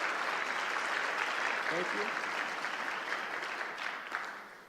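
Audience applause fills a large event hall, steady broadband clapping that slowly fades toward the end, with a brief spoken thanks heard over it.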